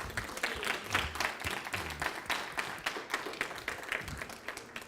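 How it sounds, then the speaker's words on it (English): An audience at a multicultural heritage event gives a young honoree another round of applause, a soft, distant patter of many hands clapping steadily with scattered sharper claps, no talking. "Give Will another round of applause"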